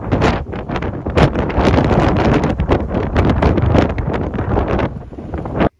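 Strong wind buffets the microphone on the deck of the Rio-Antirrio bridge, a loud, continuous roaring rush with gusting surges and no talk.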